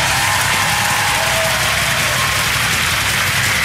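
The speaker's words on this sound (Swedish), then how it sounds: "En stor applåd för Henrik Dorsin" Audience applause at a comedy roast held at Berns, a dense, continuous wash of loud clapping from a large crowd that holds steady without a break.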